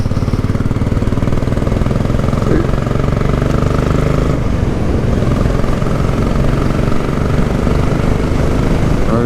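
A Royal Enfield 500 Classic single-cylinder motorcycle rides along a road, its loud, steady engine thump and drone close by and unbroken, with wind mixed in and no talking.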